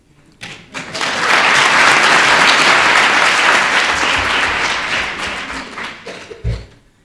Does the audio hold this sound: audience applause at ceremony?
yes